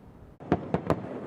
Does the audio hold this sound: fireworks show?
yes